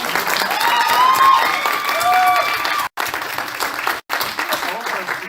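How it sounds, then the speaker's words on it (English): Applause for a speaker named Sabrina at a spring speakers forum, a steady round of clapping with some cheering, near and fairly loud, briefly cut by two dropouts near the end. "Can we get another round of applause for Sabrina?"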